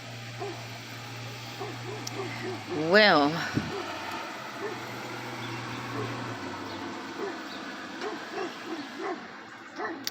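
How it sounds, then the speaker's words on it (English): A Great Pyrenees barking at a mail carrier outdoors, giving one loud, rising bark followed by fainter repeated barks further off, under a man's speech and steady background noise. "my neighbor's Great Pyrenees is barking at the mailman"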